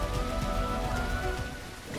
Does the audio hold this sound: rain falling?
yes